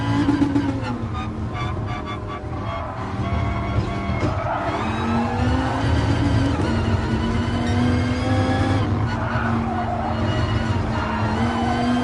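A race car in Gran Turismo Sport skids through corners, its engine droning loudly and steadily while tires squeal and pitch shifts rise and fall as it brakes and accelerates.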